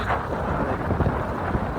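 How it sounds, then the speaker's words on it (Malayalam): Cold wind blows steadily across a forest road descending toward the Tamil Nadu border near Achankovil, a broad continuous rush with low buffeting rumble, loud and close with no talking. "നല്ല തണുത്ത കാറ്റ്."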